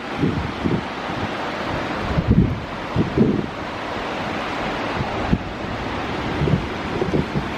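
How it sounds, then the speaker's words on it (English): A continuous rushing roar of falling water fills the scene, broad and steady with occasional gusts of wind buffeting the microphone. "As you can see, we've got the waterfall right there."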